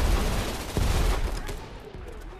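Submachine gun fire in GunRaider VR, a couple of short, dense bursts at close range over a busy background wash.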